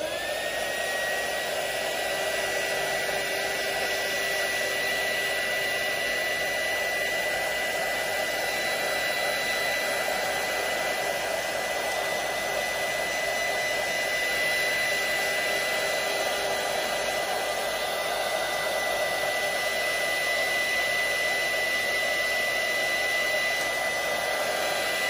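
A heat gun runs nearby with a steady, loud, airy whoosh for about twenty-five seconds. The tone never changes, and no one speaks over it.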